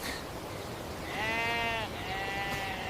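A sheep bleats twice in a drawn-out, wavering call, the second shorter, heard over a low rural background hum with no talking.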